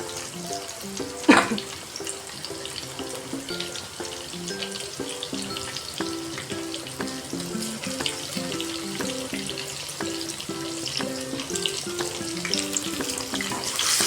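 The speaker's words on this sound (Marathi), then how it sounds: "हे पण आपण तेलात चांगलं परतून घेऊया." Crushed ginger and garlic fry in hot oil in a pan, giving a steady, fairly loud sizzle that runs continuously, with one brief sharper clatter near the start, and no talking.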